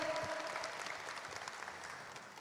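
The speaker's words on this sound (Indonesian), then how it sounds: "Boleh kita berikan tepuk tangan yang paling meriah?" Audience applause fills a hall at the opening ceremony of the 7th IKPAMI annual scientific meeting in Yogyakarta, a dense, steady wash of many hands clapping that holds at an even, fairly soft level throughout.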